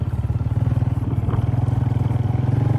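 A motorcycle engine runs at speed with a steady, loud, rhythmic mid-pitched throb and some rattling clatter, riding close by the whole time.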